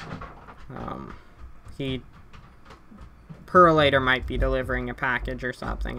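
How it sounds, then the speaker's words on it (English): A dog barks a few times in the background while a person talks over it. "I'm sorry if you can hear my dog barking."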